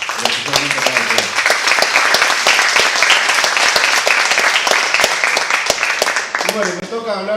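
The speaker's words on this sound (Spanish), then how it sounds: "voy a pedir un aplauso para ustedes, los activistas que son muy importantes" An audience at a national animal-rights gathering applauds activists, with dense sustained clapping filling the room, then tapering as a voice begins speaking at the end.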